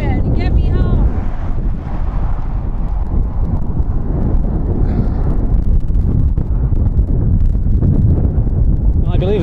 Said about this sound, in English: the wind is intense